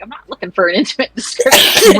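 A single sharp sneeze bursts out right after a short stretch of someone talking, close and loud.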